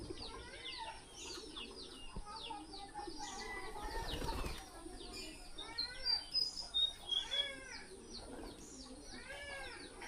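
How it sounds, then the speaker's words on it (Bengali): Pigeons being fed, with soft coos, chirps and a burst of wing flapping near the middle, then a run of repeated rising calls toward the end over a low background murmur. "তো এখন সবগুলো কবুতর একসাথে দেখানোর জন্য আর কি খাবার দিচ্ছি"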